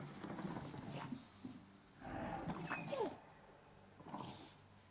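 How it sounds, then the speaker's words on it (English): Cerberus, the giant dog in the Hades video game, gives low growls and whimpering grumbles while being petted, several short rumbling bursts, fairly quiet and close. "I always love petting the dog."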